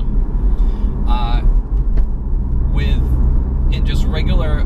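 Porsche 981 Cayman, mid-engined, with a SOUL Performance valved exhaust in auto mode, rumbling steadily in the cabin while driving, with chirps of other sounds over the low drone.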